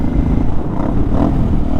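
A Honda Shadow 500 V-twin motorcycle with an aftermarket two-into-one exhaust revs close by, giving a loud, rough, throbbing roar that rises and falls briefly.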